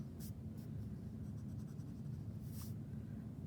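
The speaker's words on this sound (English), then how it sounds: "So I can erase those." Rubber eraser strokes rub pencil lines off paper in a few short scrubbing bursts, close and soft, under a steady low background hum.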